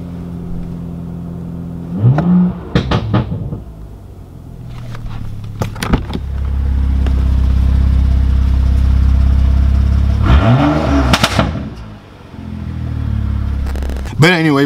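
BMW with an MHD tune revving: two sharp throttle blips, then a long, loud, deep exhaust drone held steady, then another rising rev and burbling settle, recorded close.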